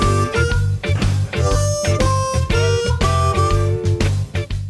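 A blues harmonica lick played with slap technique over a backing track, with punchy, rhythmic chords and short bent single notes repeating in quick phrases, loud and close.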